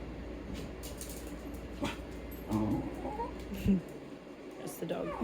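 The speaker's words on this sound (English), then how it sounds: "That's the dog." A pet dog gives a few soft whimpers and yips indoors, faint and brief, under a person's talking close to the microphone.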